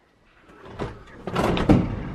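Locked household door being worked open, with a muffled thump, a rattle and a sliding scrape building to a louder clatter near the end, close by and without talk.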